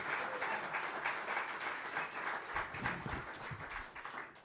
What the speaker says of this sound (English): if we could give them a round of applause for all of the time that they put into this